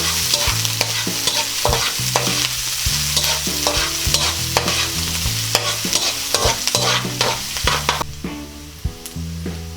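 Onions for pork giniling fry and sizzle in a pan over a strong flame, with a constant hiss and frequent sharp scrapes and knocks of a spatula as they are stirred, loud and close.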